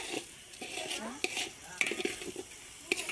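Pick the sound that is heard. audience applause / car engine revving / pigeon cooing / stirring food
stirring food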